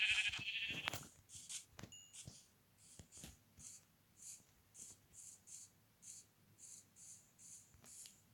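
Sheep bleating on a farm, a run of repeated, fairly faint bleats spaced about every half second over a quiet background, after a louder noisy burst at the start.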